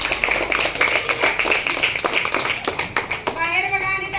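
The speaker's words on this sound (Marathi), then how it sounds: "बाहेर बघा आणि टाळ्या वाजवा." A group of children claps hands in a classroom game, with quick, uneven claps mixed with children's voices and chatter throughout, close and lively.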